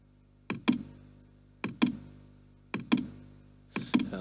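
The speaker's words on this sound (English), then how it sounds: "typing apt get upgrade and hit enter" Keys on a computer keyboard struck in four evenly spaced paired clicks, sharp and close with short decays, in a quiet room.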